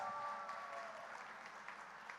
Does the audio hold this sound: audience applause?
yes